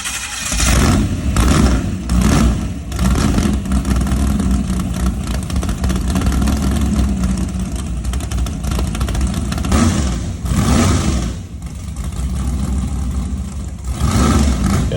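A nitrous-equipped car engine running loudly and revving in repeated bursts, rough and throaty up close, with no talking.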